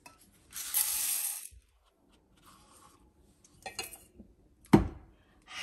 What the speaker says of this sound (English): So I'm adding 1/2 cup of black rice.